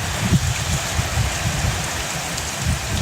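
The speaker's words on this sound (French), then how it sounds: "Il y a tellement de pluie" Heavy rain that has suddenly begun pours down in a steady, dense hiss with a low rumbling undertone, continuous and fairly close throughout, with no talking.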